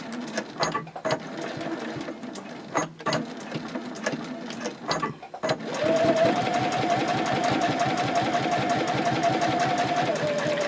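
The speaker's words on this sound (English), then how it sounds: "now I'm going to top stitch on the line for my little pen holder" Sewing machine top stitching along a line on a sling pocket to form a pen holder; a few short bursts with pauses, then steady continuous stitching at close range, loud and alone.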